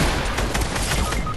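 Dense, loud gunfire from a shooter video game, a continuous roar of overlapping shots filling the whole brief moment.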